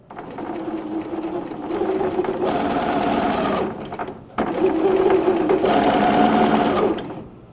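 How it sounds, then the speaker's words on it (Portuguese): A sewing machine stitches along the edge of a fabric baby bib, running in two close, loud, steady whirring bursts separated by a brief pause. "então eu vou costurar fazendo um pé de máquina"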